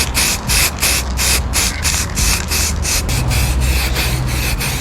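A spray gun lays clear coat onto car parts in short repeated bursts, each a loud airy hiss with brief gaps between them, close by and with no voices.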